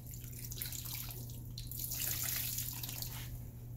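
Towels soaking in a container of water for a towel warmer, with a soft continuous watery trickle and faint drips close by.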